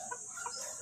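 Raptor Goldie gamefowl rooster, a Raptor sweater cross, giving a few soft clucks that rise and fall over a steady hiss in under a second, close but quiet.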